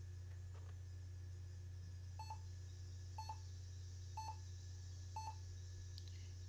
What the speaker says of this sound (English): And we get a couple of beeps there.